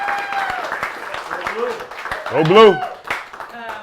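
Audience clapping at a charity cooking event raising money for a foundation, a short burst of applause under a crowd cheer, with people talking over it.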